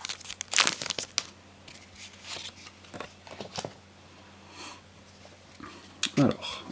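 Crinkling and tearing of a Pokémon booster pack foil wrapper being opened, in short crisp bursts near the start and end, close and fairly quiet.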